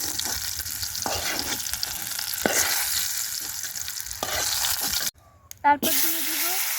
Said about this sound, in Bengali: এখন ভেজে নিব মুড়ি কাঁচা মরিচ ভালো করে ভেজে নিব